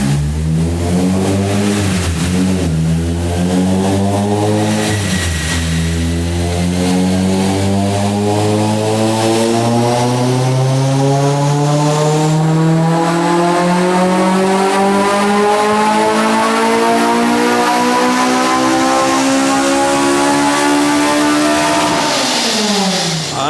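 A K20A-powered Honda EK Civic hatchback roars through a full dyno pull. The engine note climbs steadily from low revs to a screaming high-rpm peak over some twenty seconds, loud and unbroken, then drops off as the throttle closes.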